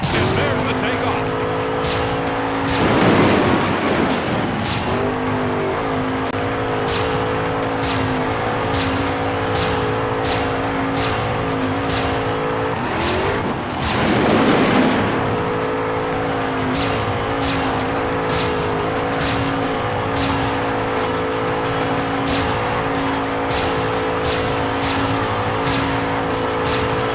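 Blacksmith monster truck in the Monster Jam Path of Destruction video game at San Diego's Qualcomm Stadium roars with a loud, sustained engine drone and two surging rev bursts, while a voice talks over part of it.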